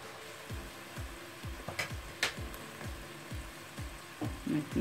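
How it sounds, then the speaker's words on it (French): Onion frying in a pan for a bolognese, with a soft sizzle underneath and a run of rhythmic scraping strokes from stirring, close by and moderately quiet, with no talking. "Je vais laisser frire un peu"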